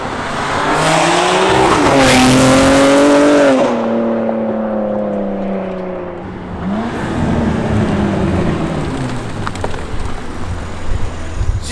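A modified G82 BMW M4 Competition with a very loud aftermarket exhaust revs hard nearby, its raspy engine note climbing and falling through a long pull, then dropping to a rumbling idle with crackles.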